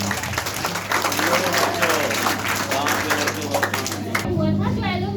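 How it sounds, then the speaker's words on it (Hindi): An audience at a science-versus-magic show applauds steadily under a low hum, with voices talking over the clapping before it tapers off near the end. "चलिए ताली बजाइए।"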